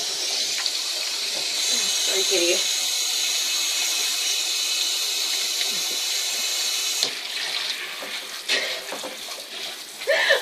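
Water from a sink sprayer runs loudly and steadily, splashing and shifting partway through, while a person speaks briefly over it.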